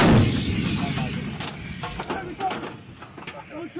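A Marine M777 155mm howitzer fires during the Balikatan 23 exercise. One loud, heavy boom opens the moment and rumbles away, followed by voices calling out over the field.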